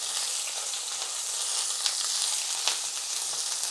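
Shrimp fry in a hot pan for a Bengali borboti bhorta, giving a loud, steady, close sizzle with a couple of sharper crackles popping through.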